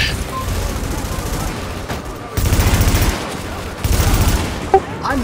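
Bursts of automatic gunfire from The Division video game ring out in rapid volleys, heavy stretches around the middle and end with a sharp single crack near the close, while a voice talks over parts of it.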